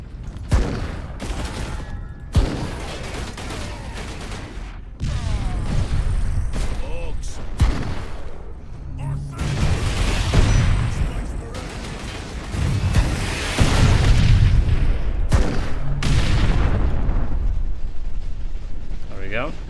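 Grenade launcher fire in Warhammer 40,000: Space Marine, repeated heavy thumping shots and explosive bursts at irregular intervals amid loud battle noise, with a voice talking underneath.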